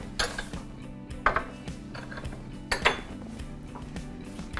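Espresso cups being set out while Neapolitan coffee brews: several sharp ceramic clinks and knocks in separate bursts over a low mechanical hum, close and fairly loud, with no talk.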